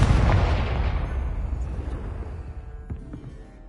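The Confringo blasting spell in Hogwarts Legacy bursts as a loud, close explosion, a deep boom that rumbles and slowly fades over a few seconds with no talk.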